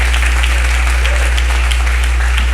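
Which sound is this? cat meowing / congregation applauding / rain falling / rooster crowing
congregation applauding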